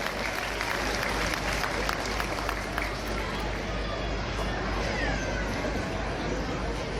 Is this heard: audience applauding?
yes